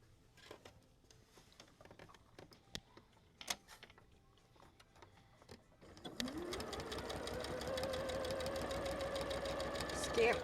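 A sewing machine stitches a scant quarter-inch quilt seam: a few scattered handling ticks, then the motor starts and runs as a steady, close, rattling drone of rapid needle strokes to the end.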